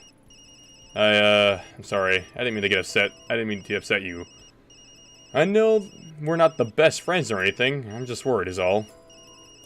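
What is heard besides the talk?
phone ringtone ringing in a video game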